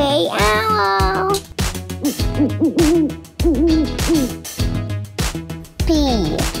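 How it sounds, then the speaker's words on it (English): An Oriental bay owl hoots in a repeated series of loud, close calls that rise and fall in pitch, with short gaps between phrases and no talk. "Oriental Bay Owl."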